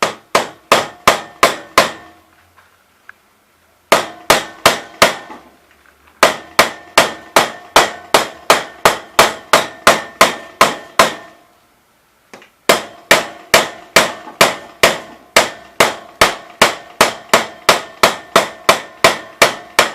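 A well filter mesh is hammered in by hand with steady, sharp, ringing blows in long rhythmic runs, close and loud, broken by brief pauses.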